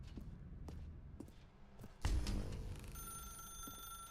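A telephone rings in The Stanley Parable video game, a faint sustained electronic ring that follows a loud thump, heard alongside soft footsteps in a quiet room.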